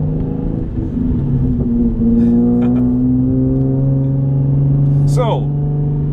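A 2016 Hyundai Genesis Coupe 3.8 R-Spec idles with a steady, droning exhaust note that swells slightly as it revs, loud and close, with a short sharp sound near the end.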